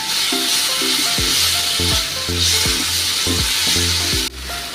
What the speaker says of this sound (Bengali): দিয়ে এবার ভালো করে নাড়াবো।